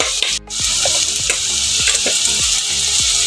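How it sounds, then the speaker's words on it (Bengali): Loete fish curry with chopped tomato frying in a pan while a spatula stirs it, giving a loud, steady hiss and sizzle over repeated scraping strokes. "এবার আমি ঘেটে নেব বন্ধুরা"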